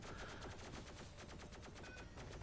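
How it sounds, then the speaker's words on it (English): A plasma minigun in a video game fires warning shots as a steady stream of rapid, evenly spaced pulses, very faint and distant beneath a constant background wash. "Paps firing some warning shots"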